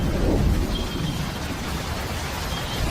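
Thunderstorm with steady heavy rain over a tropical landscape, a low rumble of thunder swelling early then fading beneath a continuous wash of rainfall; no voices.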